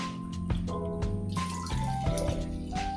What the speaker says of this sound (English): strain it through a big strainer, get rid of the large particles, and then I'm using a small strainer here to get rid of all of the finer particles